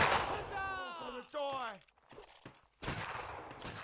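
Musket volley gunfire in the Mount & Blade Warband game, Anglo-Zulu battle, with crackling bursts of shots in two clusters separated by a lull, mixed with shouted commands and voices talking over the fire.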